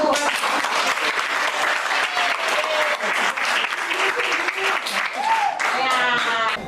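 Classroom applause from students in a gamelan music room during an arts lesson, a steady dense clatter of clapping that runs the whole stretch, with a few voices calling out over it toward the end.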